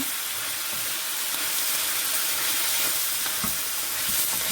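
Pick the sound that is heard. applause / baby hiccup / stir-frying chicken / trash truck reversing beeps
stir-frying chicken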